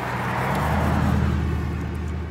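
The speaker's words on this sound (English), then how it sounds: "We'll let this car pass by." A single car passes along a road during an off-leash walk, a steady near engine and tire rumble swelling gently and holding without speech over it.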